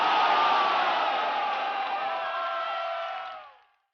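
Crowd of Long March 5 rocket workers cheers and roars in a dense, loud wash of voices that holds steady for a few seconds before fading quickly to silence.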